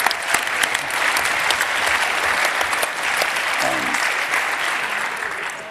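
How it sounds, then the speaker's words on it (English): Sustained applause from a large hacker congress audience thanking a speaker, a dense, even wash of clapping that holds steady for several seconds with no talk on top. "please give Jens a gigantic, gigantic, heartfelt round of applause"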